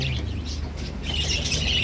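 Birds chirping high and steadily among junglefowl in a leafy outdoor setting, bright tweets layered over a constant hum of background noise, with no one speaking.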